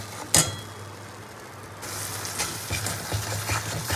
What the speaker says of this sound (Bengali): বাটা মশলাটা ফোড়নের সঙ্গে খুব ভালো করে একটু কষিয়ে নেবো।